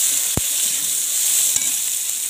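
Onion sizzles steadily in hot oil for a shev bhaji masala, a bright continuous hiss with two sharp clicks of a spoon stirring the pan.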